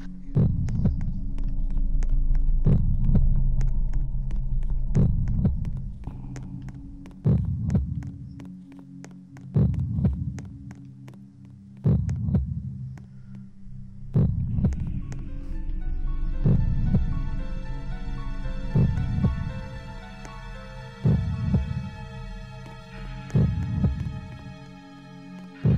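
A loud heartbeat effect from the game Black Death thumps in a slow, steady double-beat rhythm over a low hum, and a sustained tonal drone joins partway through.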